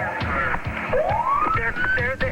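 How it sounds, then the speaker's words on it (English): Police sirens wail faintly through a cell phone during a massive area search, a rising siren sweep audible under ongoing speech and background noise. "One of the sirens echoes through the cell phone"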